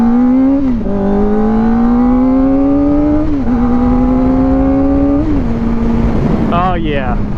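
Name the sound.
Kawasaki ZX-4RR motorcycle revving with Yoshimura slip-on exhaust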